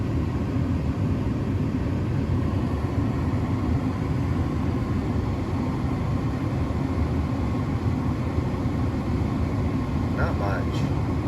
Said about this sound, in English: I'll put that back on recirc. Crank up the fan for a sec.